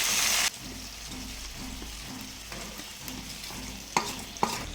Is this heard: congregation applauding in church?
no